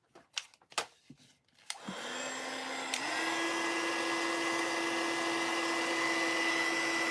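A hair dryer runs steadily to dry wet watercolor paint, starting up after a few soft knocks and clatters and then holding a loud, constant whirring blow that steps up slightly in strength.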